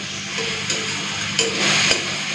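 Masala with Kashmiri red chilli powder, chilli powder, a little sugar and water being stir-fried in a pan for an egg curry: a loud, continuous close sizzle with occasional scraping stirs.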